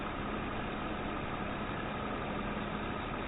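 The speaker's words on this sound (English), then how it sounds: "Got the skid steer over here." A skid steer engine idles steadily in a farming video game, a low continuous drone with a faint hum running unbroken throughout.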